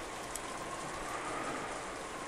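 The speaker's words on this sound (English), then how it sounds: "all that could be heard was the sound of the rain" A steady, faint hiss of falling rain in the visual novel game Umineko When They Cry, continuous and even throughout with no voices.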